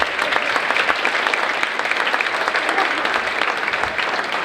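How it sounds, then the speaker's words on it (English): Audience at a community kindness awards ceremony giving the award winners a round of applause: dense, even clapping from a large crowd, sustained and loud for the whole stretch. "let's give them all one last round of applause."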